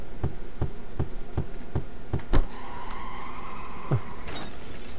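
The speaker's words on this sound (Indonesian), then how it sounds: "Ada suara kaca pecah" Glass shatters in the horror game The Whitaker's Library: a sharp crash cuts through steady rhythmic ticking, followed by a sustained tonal hum and a second crash near the end, with no voices.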